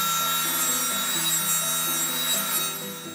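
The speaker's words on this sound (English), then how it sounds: "Here I'm just planing the fence picket down to get the two sides smooth." Hand planing a store-bought wooden fence picket for a church-style birdhouse, with a steady rasping, scraping run of close strokes that fades slightly at the end.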